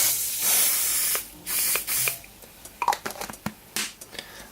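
Short hissing bursts from a lens-cleaning spray can aimed onto a microfiber towel, nearby, followed by soft rubbing and patter sounds.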